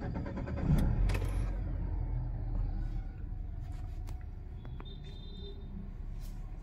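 A CNG-converted car started on petrol settles into a low, steady engine rumble, swelling slightly near the start and then idling evenly, heard close with no talk.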